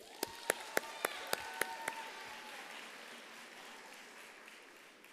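Scattered, evenly spaced claps from a graduation ceremony audience for an applied sciences faculty ring out in a reverberant hall, then fade into a faint, diffuse crowd hum; the whole is quiet and distant.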